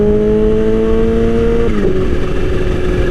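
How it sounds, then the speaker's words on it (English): A loud motorcycle engine drones steadily near the microphone, its pitch dropping partway through as if shifting, with continuous rumble and no speech. "it just doesn't feel like I'm turning that throttle very much, and the thing just freaking shoots out."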